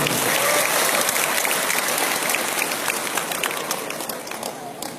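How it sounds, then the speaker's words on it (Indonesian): Loud, dense audience applause fills a university welcome ceremony at UBL in Bandar Lampung, thick clapping that tapers gradually over five seconds with faint crowd voices underneath. "Tepuk tangan dulu."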